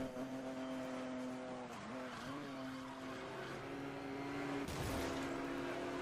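Race car in Need for Speed: Most Wanted, engine droning steadily at high revs with a brief pitch dip as it shifts, then a harsh burst of tire noise or impact near the end.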